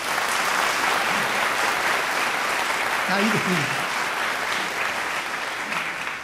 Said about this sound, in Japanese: どうかまず、オケの皆さんに皆さんで拍手していただきたい